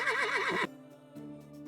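A horse in the video game Medieval Dynasty gives a loud, quavering whinny, then it cuts off abruptly and is followed by softer, steady tones.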